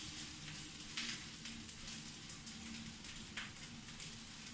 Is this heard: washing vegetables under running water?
no